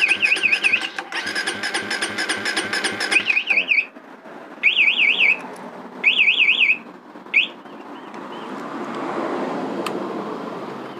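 MP One Way motorcycle alarm siren blares in loud warbling bursts, a long run and then several short repeated blasts with gaps, followed by a low engine-like rumble near the end.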